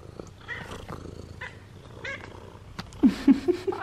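A house cat at home makes soft purring and chirping sounds, quiet at first and then swelling into louder, close rhythmic bursts near the end, with faint room noise.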